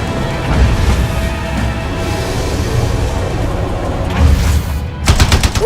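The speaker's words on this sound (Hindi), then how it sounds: "ये तो एंटी एयरक्राफ्ट गन है" Heavy gunfire from an anti-aircraft gun in the Resident Evil 4 Remake video game, a dense, loud, continuous barrage that swells near the end with sharper repeated bursts.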